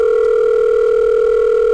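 A loud, steady electronic phone tone rings continuously in a video game scene set at a desk with rain falling outside the windows, sounding close and alone with no talking.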